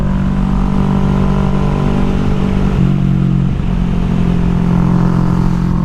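Motorcycle ridden at a steady pace, its engine droning loud and close with a constant rumbling hum and a brief shift in pitch midway, no voices over it.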